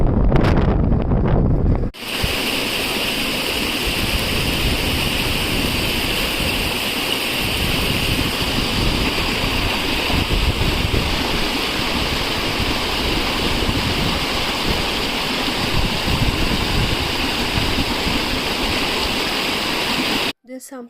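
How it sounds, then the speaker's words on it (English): A powerful, steady roar of a waterfall crashing on rock continuously in Coorg, India, loud and close, with a brief rougher burst at the start before the rush settles. "The deep, thunderous sounds of water meeting rock."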